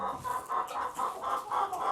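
Egg-laying hens cluck in a warm coop at night, giving a close series of repeated, rhythmic clucks roughly every half second with no talking.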